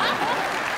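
A studio audience at a comedy talk show breaks into loud, continuous clapping that stays even throughout the moment.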